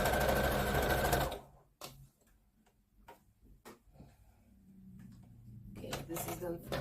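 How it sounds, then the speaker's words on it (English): A sewing machine stitches a knitted gnome in a loud, dense whir that stops abruptly, followed by a few sharp clicks and handling taps, before a softer mechanical hum builds again. "I sew it till my filling part."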